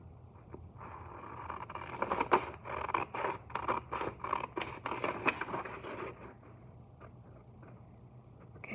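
Scissors snipping through paper while cutting out a five-inch square coaster stencil, a quick run of close, crisp cuts and rustles, then quieter handling.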